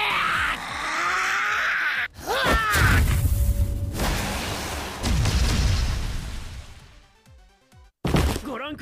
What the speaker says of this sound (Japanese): ご覧ください、ものすごい爆発です。